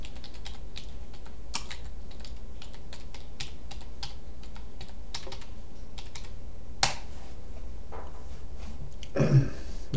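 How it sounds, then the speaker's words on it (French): Fingers type a password on a computer keyboard, a steady run of quick, close key clicks with a few louder taps and a short burst of rustle near the end, no voices. "Vous allez avoir à taper votre mot de passe."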